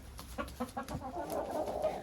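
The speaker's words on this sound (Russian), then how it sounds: "Это молодые курочки-несушки, и на данный момент они очень-очень продуктивные." Young laying hens cluck inside a clean henhouse, a run of short, close clucks at the start giving way to a busier, overlapping murmur of the flock.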